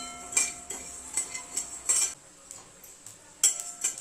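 Cumin, fennel and coriander seeds dry-roasting in a small pan, with a metal spoon clinking and scraping against the pan in short bursts, close up and alone.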